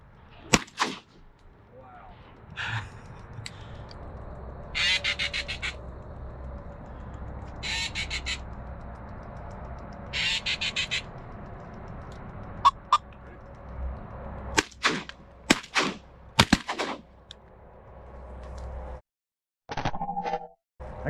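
A 28 gauge shotgun fires during a duck hunt for teal and greenheads: a tight cluster of sharp, loud reports in the last seconds, over outdoor ambience with scattered calls and brief voices.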